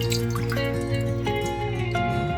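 Water is poured into a pot to make pickle brine, a continuous filling trickle with rising, gurgling tones, steady and close, under background music.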